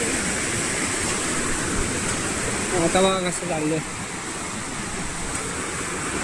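Steady broadband rush of a stream and waterfall in a wild place where crabs are caught, filling the whole clip, with a voice speaking briefly over it near the middle.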